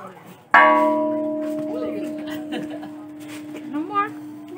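A large, cracked bell is struck once, its sustained ringing tone decaying slowly over several seconds while people talk and laugh nearby.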